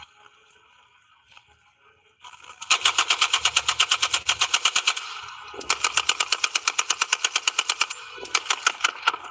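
A fully automatic firearm in a recoil test fires two long strings of rapid, evenly spaced shots, loud and close, after a brief quieter lead-in.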